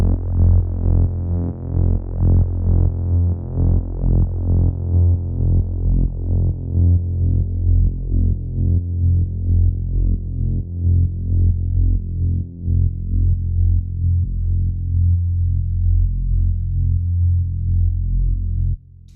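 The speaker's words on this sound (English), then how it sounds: "de-emphasize that pulse effect, that sidechain effect when I hit that break" Trance synth bass run through a sidechained compressor, pumping in a steady, loud rhythmic pulse for about twenty seconds with no pause except one brief dip, heard alone without talk.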